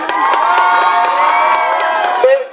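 An audience at a Free Palestine rally in Bradford in 2014 cheers and whoops loudly, sustained voices with scattered claps mixed in, continuous throughout and alone without speech.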